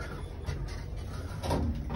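Otis series 4 elevator doors at a hotel in Cambridge, Massachusetts slide along in a continuous low rumbling hum with a faint rattle, steady and close throughout.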